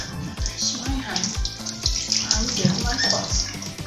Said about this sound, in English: I just pour this directly into my pot